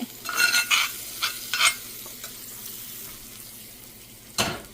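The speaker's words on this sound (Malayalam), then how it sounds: "കടു വറക്കുവാണ് കടു വറുത്തത് ഒഴിക്കുവാണ്" Mustard seeds crackle and spit in hot oil for tempering a chutney, a quick cluster of sharp pops early on, then a quiet sizzle and one last burst near the end.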